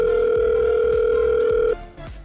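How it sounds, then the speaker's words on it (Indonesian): A steady, loud telephone tone sounds while a call is being placed, holding for nearly two seconds before cutting off into quieter line noise, with no speech. "coba-coba kita telepon"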